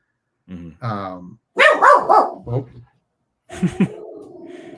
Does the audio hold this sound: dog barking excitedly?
yes